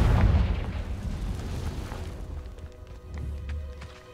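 The Confringo blasting spell exploding in the game Hogwarts Legacy, a heavy, booming blast at the start that rolls off into a rumbling, fading tail.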